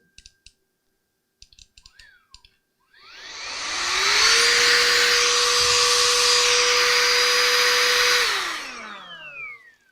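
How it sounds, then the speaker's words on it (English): After a few light clicks, an electric blower duster whirs up, blows air hard and steady for about five seconds, then winds down, close and loud, with no voices. "a can of computer duster, or one of these blower dusters that they sell"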